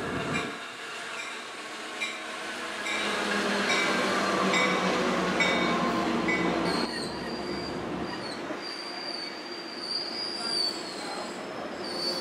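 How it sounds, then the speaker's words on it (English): An Amtrak train rolls past on the rails at Fullerton with a loud steady rumble, its wheels squealing in high, sustained tones as the cars go by. "My train that went to LA."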